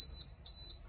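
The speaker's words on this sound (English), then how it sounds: "we're just gonna ignore the beeping" Warning beeper in a Bluebird International 3800 school bus, sounding as a steady high tone that pulses on and off in two clear beeps, alone and close.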